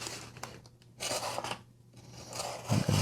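A cutter slicing through packing tape on a knife box, with a few short rasping, scraping strokes spread over a few seconds, fairly quiet and close, ending in a couple of firmer cuts.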